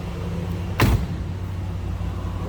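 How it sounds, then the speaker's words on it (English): A car door on a 1975 Pontiac Trans Am 455 HO swings shut with a single solid thunk, heard up close over the steady rumble of the engine idling high on a cold start. "Door closes nicely."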